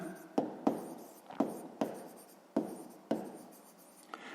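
Pen or pencil scratching across paper as math working is written out by hand, in short strokes with several sharp taps of the tip, fairly close and quiet, with no talking.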